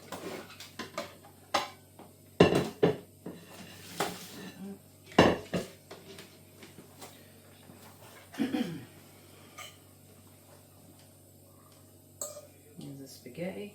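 Metal utensils clinking and scraping against plates and a pan while spaghetti bolognese is served, a few loud clatters among quieter taps, close by in a kitchen.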